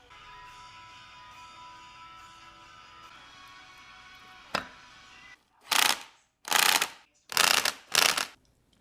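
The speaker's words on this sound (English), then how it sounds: "now you're gonna bolt down the valve body into the rack" Ratchet turning the two bolts that secure the valve body into a Honda EK steering rack during an upgrade build, heard as four loud, evenly spaced bursts of clicking after a quieter stretch with a single sharp tap.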